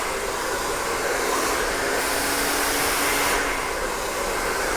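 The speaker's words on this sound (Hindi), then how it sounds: "और उनके बाद हम सभी बालों को ब्रश पर रखेंगे और उन्हें ड्रायर करेंगे।" A hair dryer blows steadily on hair wound over a brush in a salon, a loud, constant rushing roar close by with a slight rise and fall in pitch.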